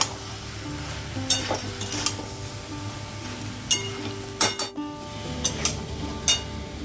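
Pre-fried potatoes dropped into a sizzling pan, a close steady frying hiss punctuated by several sharp spatula clinks and scrapes against the metal.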